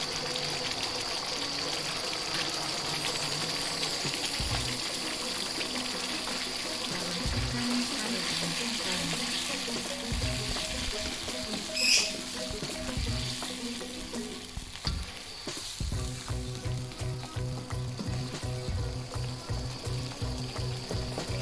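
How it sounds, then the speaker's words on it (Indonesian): Water with coconut milk bubbles and simmers in a cooking pot, a soft continuous sizzle and burble with occasional knocks and stirring clatter, growing into rhythmic bubbling toward the end, fairly quiet. "Kita tunggu sampai mendidih ya"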